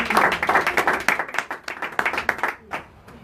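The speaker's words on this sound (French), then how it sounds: "exprime ta joie avec des acclamations, avec des cris de joie" Church congregation clapping in a quick, dense burst of applause close by, fading toward the end with a few scattered claps.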